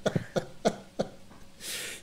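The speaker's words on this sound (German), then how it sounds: "Man hört die Spülung und dann das Husten." In the Phasmophobia video game, a ghost's close, dry coughs come in four sharp bursts about a third of a second apart, followed by a brief hiss of noise.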